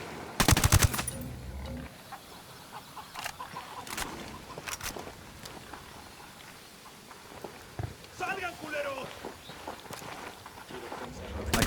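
Gunfire in the video game Ghost Recon Wildlands: a loud burst of sharp shots near the start, then scattered cracks and rattling bursts over quieter game ambience, with voices talking over parts of it.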